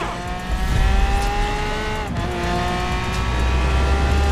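A Lamborghini Aventador in Forza Horizon 4 cruises a highway with a loud, sustained engine drone and shifting pitch, heard up close with no talking.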